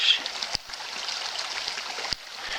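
A river flows steadily through a meander bend, a faint, continuous trickling and rushing of water with a couple of brief soft knocks, no voices.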